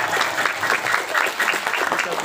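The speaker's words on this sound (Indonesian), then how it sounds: "Boleh berikan aplaus tepuk tangan semua buat pengurus kampung zakat keuangan." An audience at a Kampoeng Zakat anniversary gathering applauds the organizers, a dense burst of hand clapping, steady and close, lasting a couple of seconds.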